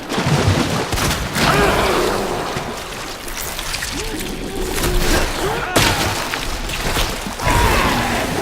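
Shotgun blasts in the survival horror game Resident Evil 2, mixed into a dense, noisy soundscape with booming hits, a sharp crack partway through and faint creature-like moans.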